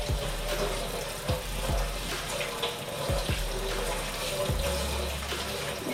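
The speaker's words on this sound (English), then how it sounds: "I'm going to put my Brussels in the sink. We're actually going to go ahead and rinse them with cold water." Cold tap water runs steadily into a kitchen sink as Brussels sprouts are rinsed in a colander, with a constant splashing hiss and a few soft knocks and shifts.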